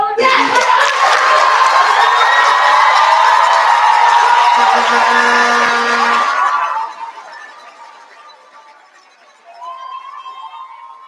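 An awards-ceremony audience at a debate event applauds and cheers for the standing coaches, a loud, dense burst of clapping and voices for about six seconds before it fades to quieter room noise.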